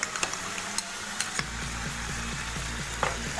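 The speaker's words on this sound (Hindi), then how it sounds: "मक्खन डाल रहे हैं 1 चम्मच" Butter and green chilies sizzle in a handi while a spoon stirs and scrapes, with sharp intermittent clinks over a steady, fairly quiet frying hiss and a low background hum.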